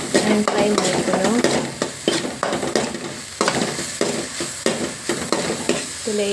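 Onion and tomato fry in a pan while being stirred, a steady sizzle broken by repeated scraping stirs of a spoon against the pan, fairly close and loud.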